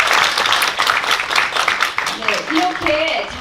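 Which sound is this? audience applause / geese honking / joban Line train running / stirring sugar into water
audience applause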